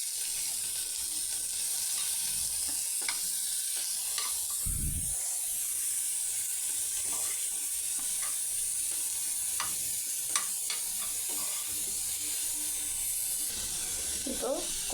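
Onions sautéing in hot oil for a bread corn sandwich, a faint, steady hiss of frying with a few light spatula taps and one brief low thump, quiet and even throughout.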